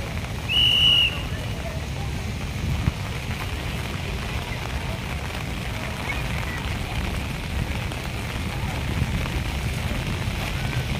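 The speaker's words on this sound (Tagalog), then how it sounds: "Lumalakas po yung ulan" Steady heavy rain hisses and patters continuously throughout at the Manila Baywalk dolomite beach, with a security guard's short whistle blast near the start cutting through the downpour.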